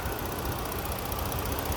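A steady idle from a Ford 3.7 engine in a 2015 Ford Police Interceptor Utility Explorer, a continuous low rumble with a faint even ticking, close by and unchanging, no voices.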